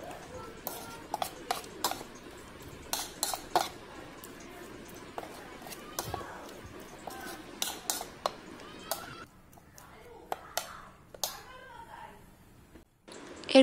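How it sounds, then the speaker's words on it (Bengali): Stirring prawn malai curry in a pan after salt goes in, with irregular scraping, tapping and clinking of a utensil against the pan, close and fairly loud, pausing briefly near the end. "এবার লবণ দিয়ে দিচ্ছি স্বাদ মতো, একটু নাড়িয়ে চাড়িয়ে নিচ্ছি।"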